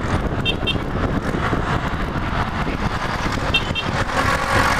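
Trucks roll past on a road, a steady broad roar of tires and engines with faint high tones, heard from nearby without speech.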